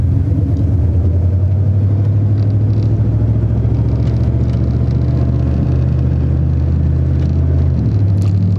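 A Dodge Ram 1500 truck drives with a loud, steady engine drone and road rumble, and its pitch drops noticeably near the end as it shifts gears.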